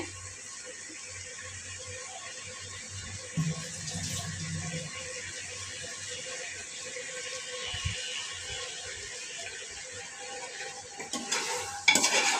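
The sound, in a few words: sautéing and stirring in a pan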